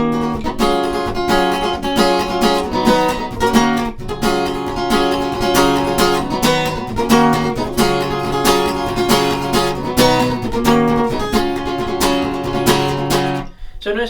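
Acoustic guitar strums the pre-chorus pattern of a song, a steady driving rhythm with extra strums added between the main accents, loud and close throughout, ending abruptly near the close with no talking.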